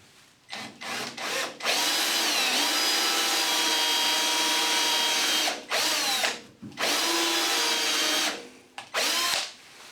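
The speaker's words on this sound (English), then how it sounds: "we're going to proceed to drill out the broken screw" A power drill bores out a snapped screw from wood, whining loudly in several bursts: short stuttering starts, then long sustained runs with brief pauses between, close up and with no talking.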